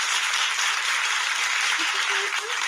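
Steady applause from a podcast audience or studio group, a dense even wash of clapping held at constant loudness throughout, with a faint voice briefly surfacing near the end.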